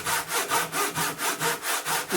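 A hand saw rips through wood on a kitchen project, its long regular strokes rasping back and forth in a steady rhythm of about eight passes, loud and close with no talk.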